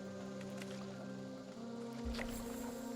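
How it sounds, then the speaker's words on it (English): Purified water being collected in Fallout 76, a steady watery wash with a low splash or gurgle near the end, close and moderately loud, with no talking. "We're going to collect some purified water here."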